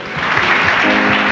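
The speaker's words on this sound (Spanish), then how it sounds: "Dale un aplauso al Señor" Loud, dense applause from a church congregation, steady clapping throughout with a brief voice rising near the end.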